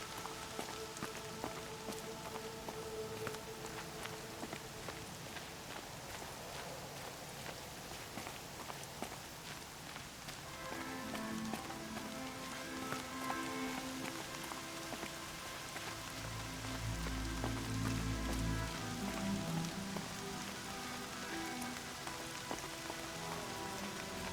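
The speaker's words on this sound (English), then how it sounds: "More rain." Steady rain falls on surfaces in Horizon Zero Dawn, with dense close patter throughout and footsteps crunching along underneath as a character walks through the wet.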